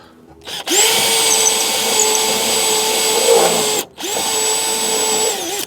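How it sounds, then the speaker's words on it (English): A power drill whines loudly and steadily close by as it cuts through a Ford truck's rusted sheet-metal radiator core support, stopping briefly and then starting again for another sustained run. "trying to drill through one side."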